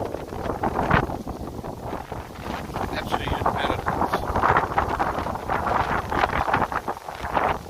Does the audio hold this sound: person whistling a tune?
no